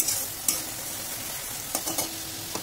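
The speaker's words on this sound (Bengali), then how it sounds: "মশলাটা বেশ অনেক সময় ধরে একটু কষিয়ে নিতে হবে" Spice paste for a hilsa curry with potato and eggplant, stirred and sautéed in hot oil in a pan, giving a steady soft sizzle broken by a few scraping stirs of the spoon.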